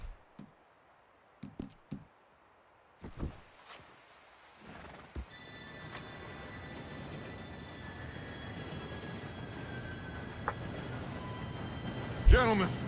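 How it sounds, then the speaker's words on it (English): A train approaches in the Red Dead Redemption 2 video game, its low rumble and rattling building steadily after scattered footsteps and thuds, rising to a loud, close roar with a sharp metallic clank near the end. "Train should be here any minute now."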